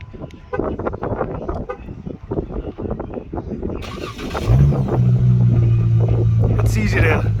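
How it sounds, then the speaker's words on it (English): Talk and clicks give way to a 2019 Dodge Challenger GT engine starting by remote start, then a steady, fairly loud idling rumble with a faint whine above it. "So this one is one of the models that has remote start."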